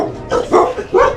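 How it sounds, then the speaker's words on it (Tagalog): A big dog barks three times in quick succession, loud and close, each bark short and gruff, with no talk over it. "Ay, laki ng aso dito."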